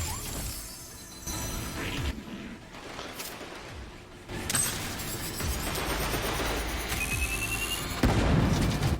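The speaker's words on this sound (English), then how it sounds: "Okay, that was a grenade." Grenade blast in a first-person shooter game, a heavy boom with crackling debris among ongoing gunfire and battle noise, loud and dense throughout.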